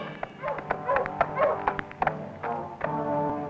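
Hunting dogs on a jaguar hunt in 1965 yipping and barking in quick, repeated, overlapping bursts nearby, some calls whining, with the occasional voice underneath.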